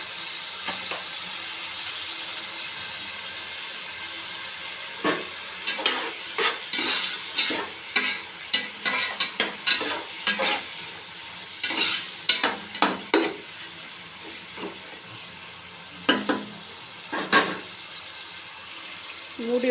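Tomatoes sautéing with rock salt in a pan for vegetable biryani: a steady sizzle runs throughout, broken by a series of sharp scraping stirs of a utensil against the pan, close by and with no talking.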